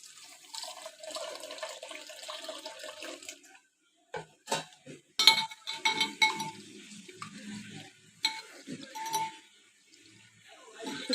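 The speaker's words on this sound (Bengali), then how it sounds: "এর জন্য আমি এখানে মুসুরির ডাল নিয়েছি ভালো করে ধুয়ে নেবো" Red lentils (masoor dal) being washed in a bowl, water swishing and splashing in irregular bursts with a few small clinks, close and moderately loud, separated by short quiet pauses and no speech.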